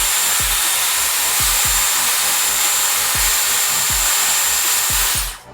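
A Dyson Airwrap hair styler on its cool setting blows a steady, loud broadband whoosh with faint rhythmic low thumps, then cuts off abruptly at the end.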